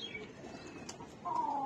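A pigeon coos softly close by, with faint rustling as it shifts about and a brief brighter call near the end.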